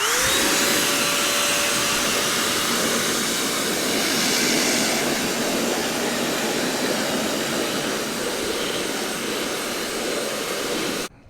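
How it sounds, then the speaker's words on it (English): Compressed-air blower drying freshly ceramic-coated matte gold BMW M2 CS wheels: a loud, steady rushing roar with a high whine, continuous for about eleven seconds before cutting off abruptly. "All right, blowing drying is done."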